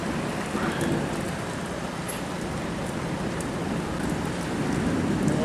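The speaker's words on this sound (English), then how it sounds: "it never rains like this in Walla Walla." Heavy rain pours steadily in Walla Walla, a dense continuous hiss close by, with faint low rumbles that may be distant thunder beneath it.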